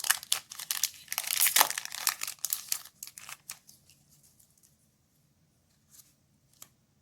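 Trading card booster box, a Force of Will Alice Origin III box, pulled open by its cardboard tab, giving dense crinkling and tearing bursts up close for about four seconds, then quieter scattered rustles and a few soft crackles.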